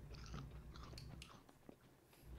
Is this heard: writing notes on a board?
no